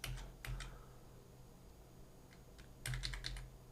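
Fingers tap a computer keyboard in short bursts of crisp, quiet clicks, a few keystrokes, a pause, then another quick cluster, close and alone in a quiet room.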